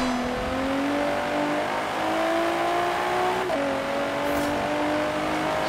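Porsche Macan engine in the Forza Horizon 3 racing game, a loud, steady engine drone holding high revs throughout, with a brief dip as a gear change comes about midway, heard alone.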